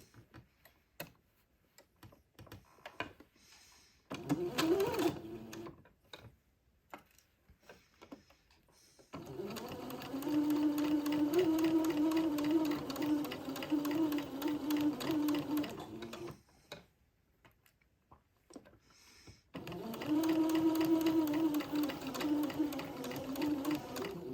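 A sewing machine runs a straight stitch along a bonnet for a day gown, in three separate runs of steady, close motor whir with quiet pauses between them.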